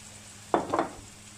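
Shish tawook chicken pieces sizzling in a pan of ghee and oil, a brief loud crackling burst with a second flare of sizzle, then a low steady background hum.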